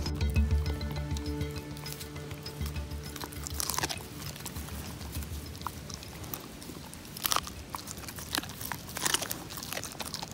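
Close crunching and chewing while cooked coho salmon is eaten outdoors, with steady bites and crisp crackles over a low background hum, and no talking.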